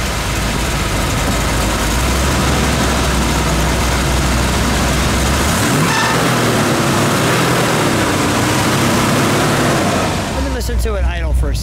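A 1973 Plymouth Cuda 340 V8 engine idles deep and steady, loud and close, holding a continuous low drone with a slight dip partway through before settling again.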